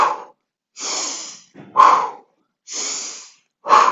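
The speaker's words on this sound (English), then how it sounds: "So the pumping breath is a big sniff" Forceful Pilates pumping breaths during a swimming exercise, alternating big sniffing inhales with sharp huffing exhales in a steady rhythm of about four strong bursts, close and loud with near silence between them.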